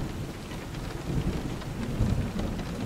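Steady rain pours down through a thunderstorm while low rolling thunder rumbles and swells beneath it, the downpour constant and close with no voices.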